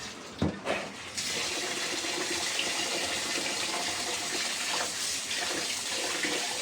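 Rice being rinsed clean under a running tap, a steady close hiss of flowing water that carries on throughout with a few clunks near the start.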